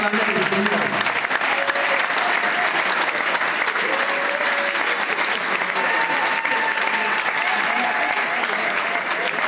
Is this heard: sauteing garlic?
no